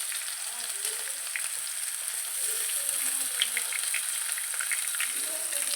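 Tomato and onion fry in hot oil, making a steady, close sizzle and hiss. Faint stirring clicks and bubbling pops break through here and there.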